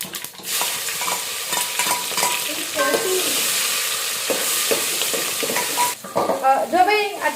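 Spices such as cumin, mustard seed and sesame, with tomato and chili, hiss and sizzle in a hot pan as a spoon stirs and scrapes, with close sputtering bursts and a quiet stretch near the end.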